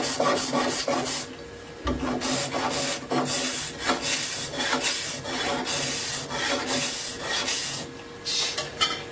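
Scraping a wooden block while hand-making a traditional Chinese woodworking plane, steady rasping strokes repeating close by, dry and gritty with no talk.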